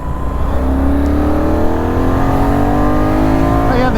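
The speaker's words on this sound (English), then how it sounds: "it's certainly got plenty of oomph to overtake like that" A Benelli Leoncino 800 Trail motorcycle accelerates hard to overtake, its engine note loud and close as the revs climb steadily through a continuous rising drone.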